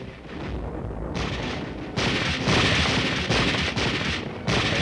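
Army trainees fire live ammunition and throw grenades in street-fighting combat drills, producing loud overlapping bursts of gunfire and blasts in quick succession, close and harsh throughout.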